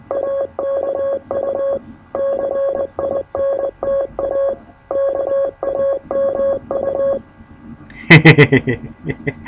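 A steady run of electronic beep tones in short and long bursts, spelling out "aku cinta kamu" (I love you) in Morse code, followed by a brief burst of louder noise at the end.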